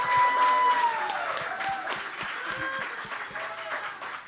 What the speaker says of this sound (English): Could we get a round of applause for the women panel in hip-hop?